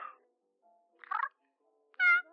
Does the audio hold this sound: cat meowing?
yes